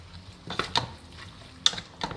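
A spoon stirs jackfruit in coconut milk in a pot, giving a few soft scrapes and clinks against the metal over a quiet simmer, close and sparse.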